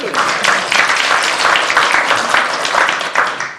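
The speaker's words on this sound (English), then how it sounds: "another round of applause for us." Applause from an audience at an annual meeting, a short burst of dense clapping filling the whole moment at close range.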